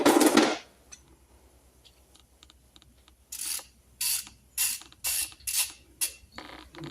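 A socket wrench ratchet works on the brake of a 2008 Chevy Silverado: a short burst of clicking, then a quiet gap, then a series of five or six close ratcheting strokes.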